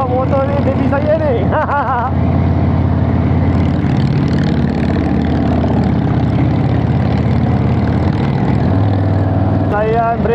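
A Harley-Davidson motorcycle engine runs steadily while riding up a hill road, a continuous loud low drone with speech over parts of it.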